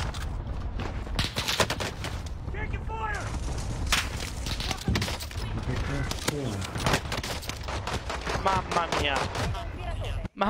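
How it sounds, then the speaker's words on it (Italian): Rapid bursts of video game gunfire and fusillades crackle throughout, with loud shots and explosions layered over in-game announcer voices and someone talking excitedly. "sparo a chiunque"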